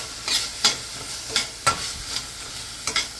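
Leftover steak sizzling in a pan with onions and jalapeno, a steady fry broken by several sharp scrapes and stirs of a utensil against the pan, close and fairly loud.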